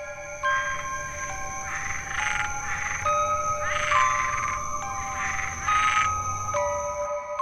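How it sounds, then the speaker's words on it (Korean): A chorus of frogs croaking at night in countryside rice fields, in pulsing bursts, steady and continuous, with a high insect-like drone throughout and no voices. "그동안 대화소리에 감춰져 있던 개구리 울음소리가 귓가에 들리기 시작했다"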